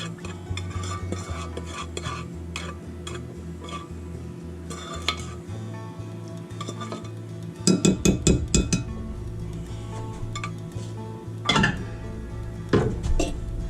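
A metal spoon clinks and scrapes against glass and ceramic dishes in a home kitchen during Christmas dinner preparation, with scattered light taps early on and a louder burst of rapid ringing clinks midway, then a few more sharp knocks, no talking.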